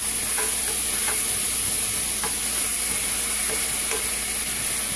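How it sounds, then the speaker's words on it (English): A frying pan being scraped to loosen stuck bits while cooking chicken stew, with a loud constant sizzle and hiss and faint intermittent scraping strokes, no voices. "And kind of pick up some of all of that stuff that's sticking to the pan."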